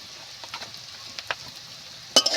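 Salt, turmeric and chilli fried and stirred for a snake gourd fry, giving soft sizzling with several short scraping stir strokes and a louder clatter near the end.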